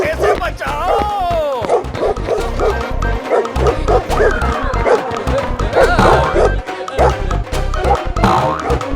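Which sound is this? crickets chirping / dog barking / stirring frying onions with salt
dog barking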